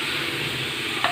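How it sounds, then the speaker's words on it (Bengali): Spices being stirred into chicken korma in a pan, a brief continuous sizzle with soft stirring and one quick scrape near the end, no talking. "ঢেলে এইভাবে নাড়াচাড়া করে নেব"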